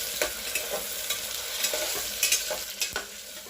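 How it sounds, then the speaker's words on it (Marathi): Onion and tomato sautéing in a pan for a village-style mutton curry, a steady oily sizzle broken by repeated scraping stirs of the spoon, close and moderately loud, with no one speaking. "आता आपला कांदा आणि टोमॅटो व्यवस्थित परतून झालेला आहे।"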